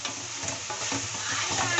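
Spices sizzle and fry in a pan for an eggplant dish, a steady close hiss with occasional stirring scrapes running continuously without any talking.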